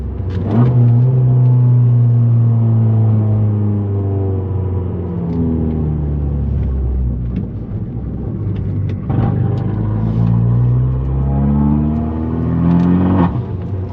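A Fiat 500 Abarth turbo engine with a five-speed manual gearbox revs up loudly and closely through the gears, pitch climbing in repeated pulls with brief drops between shifts.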